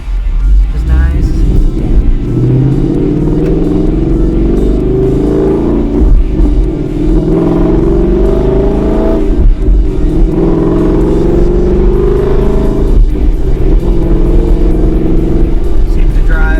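A car fitted with a PMAS intake and Bama tune drives and accelerates, its engine rumbling and swelling in loud surges from inside the cabin, with a person talking over it.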